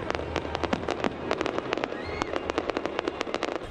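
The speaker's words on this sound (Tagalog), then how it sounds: "Makulay na fireworks ang isinalubong sa Year of the Wood Dragon pagpatak ng hating gabi sa Jones Bridge sa Maynila" Chinese New Year fireworks at midnight over Jones Bridge in Binondo, Manila, crackle and pop in rapid, dense bursts with steady bangs over a continuous crowd rumble.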